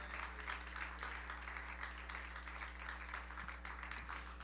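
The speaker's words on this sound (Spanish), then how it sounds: "¿Cuántos pueden darle un aplauso fuerte a nuestro Dios?" Congregation clapping at a Spanish-language church service praising God, a steady dense patter of many hands over a low hum, moderately loud and sustained for a few seconds.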